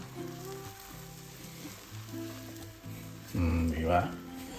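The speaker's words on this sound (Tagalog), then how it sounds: "Gagamit po ako ng liquid margarine sa pagprito ng maruya." Maruya banana fritters of banana, flour and fresh milk sizzle in liquid margarine, a steady close frying crackle that swells louder near the end while a voice talks over it.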